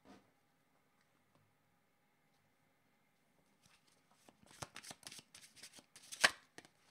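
A deck of cards being shuffled for a card reading, quiet at first, then a close burst of rapid riffling and flicking snaps near the end.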